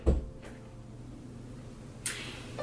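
A room door is pushed shut: a soft low thump at the start, then a crisp latch click about two seconds later, both fairly quiet and close.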